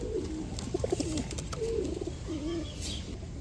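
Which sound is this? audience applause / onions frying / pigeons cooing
pigeons cooing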